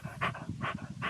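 A dog resting after a long run in the Adobe Badlands near Delta, Colorado pants hard and close, with three quick, rhythmic breathy bursts and no talking.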